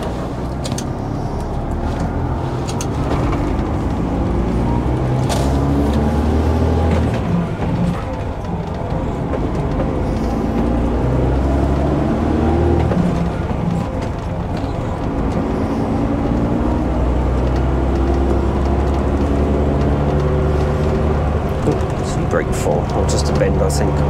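A Volvo B10M coach drives along a country road, its low engine drone and gear changes continuous and close, with road rumble throughout while someone talks over it.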